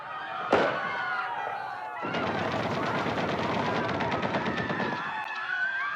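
A sharp bang, then a dense burst of rapid automatic gunfire rattling for about three seconds, loud and continuous, before it stops.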